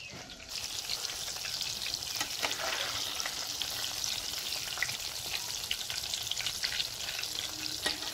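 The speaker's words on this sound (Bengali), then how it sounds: "এবার আমি ওপর পাশটাও ভেজে নেব।" Ripe bananas frying in a pan of hot oil, giving a continuous loud sizzle with crackling pops and occasional stirring scrapes throughout, with no talking.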